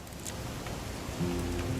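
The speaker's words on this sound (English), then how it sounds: "It's gonna rain the whole weekend, isn't it?" Steady rain falls in What Remains of Edith Finch, a dense, even patter of drops on a surface with a low rumble underneath, heard alone and fairly close.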